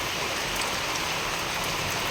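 Steady, dense rain falls and patters on a surface, a constant close hiss with no pauses or voices.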